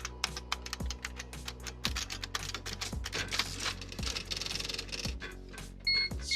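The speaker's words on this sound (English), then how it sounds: "It's a typewriter." Rapid typewriter keystrokes clatter throughout, with heavy periodic thumps like carriage or key strikes roughly every second and a brief bell-like ping near the end, loud and close with no talk.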